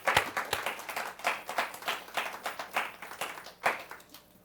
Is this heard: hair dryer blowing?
no